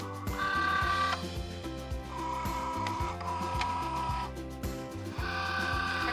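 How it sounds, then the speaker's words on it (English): Cricut Joy cutting machine loading iron-on vinyl, a close mechanical whir with rhythmic clicking and stepping pulses and repeated short motor runs, no voices. "So I'm going to load my Cricut Joy."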